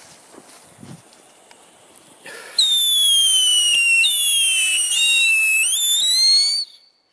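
Funke Luftheuler firework battery shrieking with a long, loud, gliding whistle that bends in pitch for several seconds and then cuts off, preceded by faint outdoor rustling.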